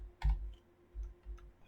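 Keys clatter on a computer keyboard while text is typed into Microsoft Word's equation editor, a few distinct close taps and clicks in a short quick burst.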